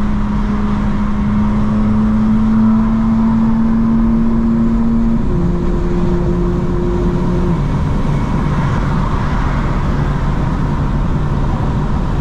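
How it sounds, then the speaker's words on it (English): A red Toyota alongside on the road gives off an electrical-sounding engine whine, a steady thin tone that drops in pitch midway, heard over constant road and cabin noise from inside a moving BMW M4. "That engine is whining, but it's like an electrical whine,"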